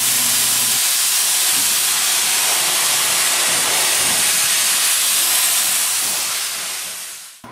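A steam locomotive at the Hesston Steam Museum releases a loud, continuous broadband hiss of steam that holds strong for several seconds and then tapers off, with a brief low tone at the very start.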